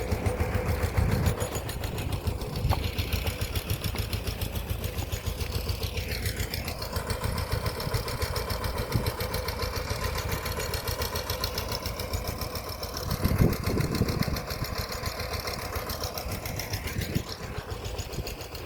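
A tractor engine runs steadily with a twin-barrel pesticide sprayer fitted, a continuous mid-pitched drone with faint mechanical rattle that swells slightly partway through, with no talking.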